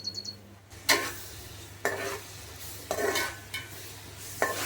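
Sliced onions frying for a Nellore fish curry, a soft continuous sizzle broken by four scraping stirs of a spoon against the pan, close and fairly quiet.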